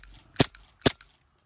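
Two sharp gas blowback airsoft pistol shots fitted with an AceTech Lighter S tracer unit, each crisp crack followed by a quick mechanical clack of the slide, spaced about half a second apart, close and loud with no talk.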